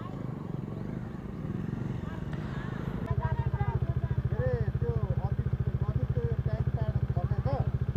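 Several motorcycles ride uphill on a road to a hilltop temple in Nuwakot, with people talking over engine noise. Partway through, a close engine rises into a loud, rapid, pulsing putter that holds steady to the end.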